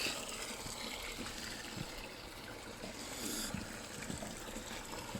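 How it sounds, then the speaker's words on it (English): Water rushes and gurgles steadily through a billet 2JZ engine block and cylinder head, a constant splashing flow with no talking. "we're feeding water to the head, water to the block."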